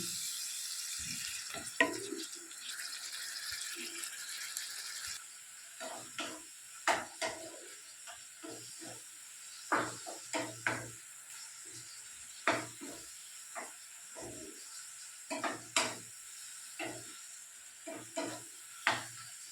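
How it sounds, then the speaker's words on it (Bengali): Capsicum sautés with ginger-cumin paste in a pan for a vegetarian chhana dalna, a quiet sizzle broken by repeated scraping and stirring knocks against the pan, close and intermittent, with no talk. "খুব ভালো করে ক্যাপসিকামটা আমি মশলার সাথে কষে নিচ্ছি।"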